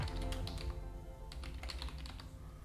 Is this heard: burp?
no